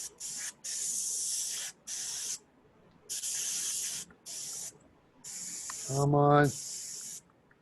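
Airbrush spraying paint onto a cosplay sword prop, heard as repeated hissing bursts of about a second each with short gaps, close and fairly loud, with a brief spoken remark near the end.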